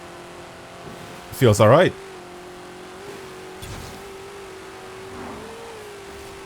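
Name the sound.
car engine while driving in Forza Horizon 4 video game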